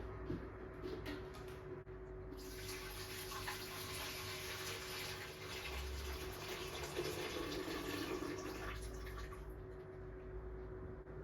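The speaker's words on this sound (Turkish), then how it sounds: "Şu büyük alandan ekliyorum suyu." Water is poured into the tank of an ultrasonic cool mist humidifier, a faint steady splashing stream lasting several seconds and then stopping, close and quiet.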